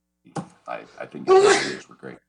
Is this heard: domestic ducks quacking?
no